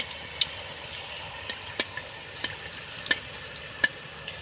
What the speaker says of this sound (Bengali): এবার ভেজে নেব। এবার তেলের মধ্যে ছেড়ে দেব।